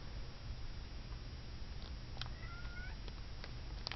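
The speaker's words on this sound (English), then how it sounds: "I have a cat crying at my door wanting to come in here" A cat cries at a door to be let in, its faint, brief meows rising over a steady quiet indoor hiss with a few small ticks.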